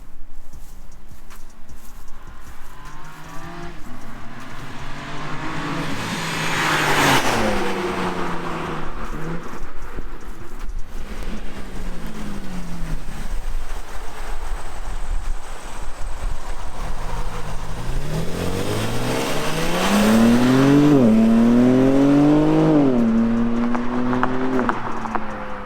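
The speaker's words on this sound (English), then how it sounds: "Exhaust, honestly, for a stock exhaust, sounds phenomenal." A stock exhaust on a 2021 BMW G82 M4 Competition, rising and falling through revs, with two louder pulls building to a strong, sustained bark near the end over steady road noise.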